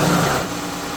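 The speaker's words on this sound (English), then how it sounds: "So with it full, I've got the engine running." A Dodge Grand Caravan engine idles during a radiator flush and fill, giving a steady, close mechanical hum that eases slightly in level after the first moments.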